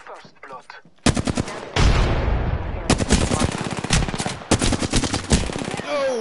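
Loud bursts of automatic gunfire in a shooter video game, close and rapid, with a few separate volleys broken by short gaps and an explosion-like rumble, and brief game voices at the start.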